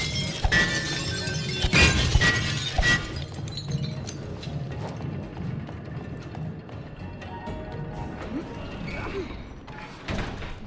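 Glass bottles smashing in the It Takes Two video game, a burst of shattering crashes up front followed by scattered tinkling and clattering that fades under quieter game ambience.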